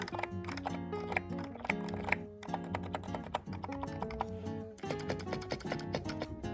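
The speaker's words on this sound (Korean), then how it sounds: "그 다음에 키보드 소리를 살짝 들려드리자면" Rapid clacky keystrokes on a mechanical keyboard, steady and close, pausing briefly a couple of times before the typing resumes.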